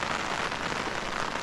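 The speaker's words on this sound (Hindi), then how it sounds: "ये देखो काफ़ी तेज़ बारिश होने लगी है" Heavy rain pours in the misty mountains near Bungidhar, a dense, steady, loud hiss of drops hitting surfaces without pause or any voices.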